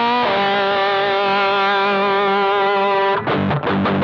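Distorted electric guitar through the Rat distortion setting of a Boss ME-90 multi-effects unit, a loud sustained chord ringing with thick harmonic buzz for about three seconds, then a few quick choppy strums close and dry.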